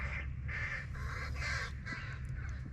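Birds attacking each other outdoors, cawing like crows in repeated harsh calls, faint and distant over a steady low rumble.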